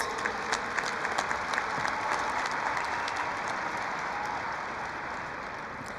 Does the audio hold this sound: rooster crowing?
no